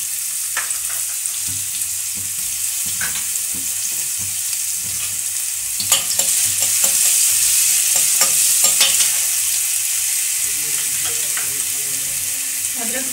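Garlic paste hits hot ghee in a pan and sets off a steady, close sizzle. It is stirred along the way, with scraping and clinks over the frying hiss and a louder burst of crackle in the middle.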